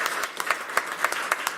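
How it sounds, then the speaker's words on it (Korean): Applause breaks out in a church service to welcome first-time visitors, a steady patter of clapping with some hands standing out as sharper, nearer claps, lasting well over a second. "환영의 박수를."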